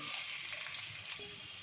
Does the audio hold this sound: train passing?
no